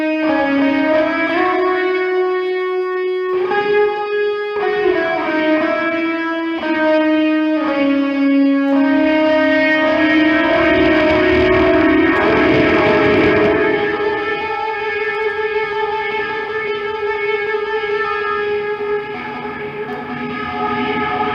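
Electric guitar fitted with Fluence pickups, run through drive into reverb: sustained distorted chords and notes with long, washy reverb tails and oscillating swells, loud and continuous with no talking.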